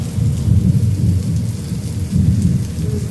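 Heavy rain pours down steadily, a dense low rushing roar with no pauses and no voices.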